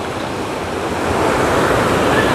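Water rushing through a deep gorge along the Appalachian Trail, a loud, continuous broadband roar that swells slightly, with no voices.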